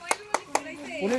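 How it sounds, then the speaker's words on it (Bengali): Three quick, sharp hand claps, evenly spaced and close by, during a cheerful family quiz game, followed by a voice beginning to speak. "হ্যাঁ সঠিক উত্তর হাততালি দাও হাততালি"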